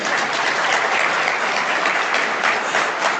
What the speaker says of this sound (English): I expected you to at least give me a round of applause.